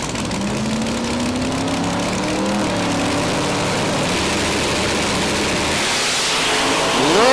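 Limited drag radial cars launch and shift gears at a drag strip, a loud continuous engine roar with rising and falling pitch sweeps as gears change, building louder at the end.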